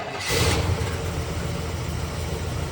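A 1969 Chevelle SS engine, long unused and running rough with one cold cylinder, catches with a short burst of noise, then settles into a steady, rumbling idle close by.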